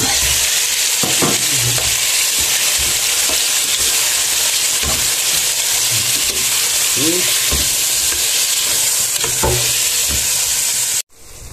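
Chicken pieces stirred into sautéing onions in a pan for Filipino chicken adobo, sizzling steadily and loudly throughout, with occasional scrapes and clinks of a utensil, ending abruptly.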